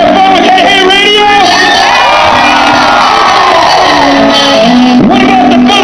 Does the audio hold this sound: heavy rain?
no